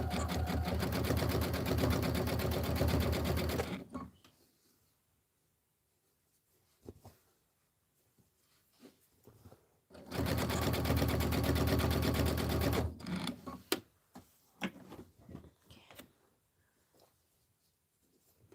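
A sewing machine stitches a pillow seam in two steady bursts of rapid mechanical whirring, near and loud, with quiet pauses, soft clicks and handling noises between runs.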